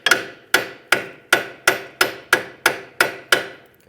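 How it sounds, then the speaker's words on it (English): Ten sharp metallic hammer strikes driving a wedge into the steering knuckle of a 2003-2007 Nissan Murano, at a steady, even pace, each ringing briefly before the next, close and loud with no talking. "I'm going to try to hammer it in"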